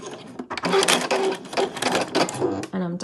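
Close, rapid stitching from a sewing machine on a travel wallet card pocket, with choppy start-stop bursts as it back stitches and a brief voice mixed in.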